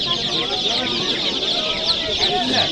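Black chicks and poultry at a chicken market in Andijon, a constant chorus of high peeping and clucking close by, with a voice talking over it.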